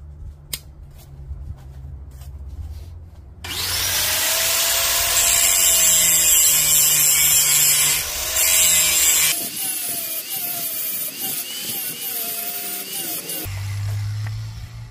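Power tool grinding a V-groove into a metal pipe to prepare it for welding during handmade straight pipe mount fabrication, a loud, harsh, sustained whine that shifts pitch midway, then cuts off to a quieter rasping before a low hum returns.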